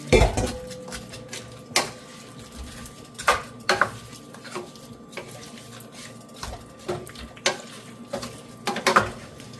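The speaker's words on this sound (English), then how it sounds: "I just add the fried pork that's we did earlier." Fried pork stirred into a stewing pot, with sharp metal spoon clanks against the pot at irregular intervals over a faint simmering bubble, close and clear with no talking.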